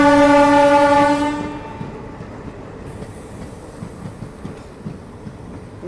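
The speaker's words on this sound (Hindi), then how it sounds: "सामने से आ रही है Kasganj Farrukhabad express, train number 15042।" The Kasganj–Farrukhabad Express (train 15042) passing on Indian railway track: a loud horn blast fades into a steady rumble with rhythmic clickety-clack of wheels over rail joints.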